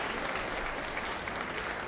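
Sustained applause from an audience at a youth sports awards show, steady dense clapping filling the room without a break.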